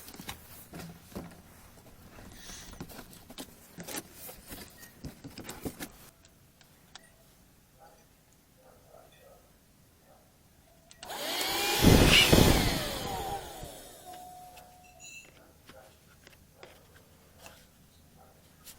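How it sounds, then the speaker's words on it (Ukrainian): An Aspiring Dust 2 car vacuum cleaner switches on for about two seconds, giving a loud close whirring roar that rises and stops, set among quieter handling clicks and rustles. "перевіримо функціональні можливості автомобільного пилососа Aspiring Dust 2"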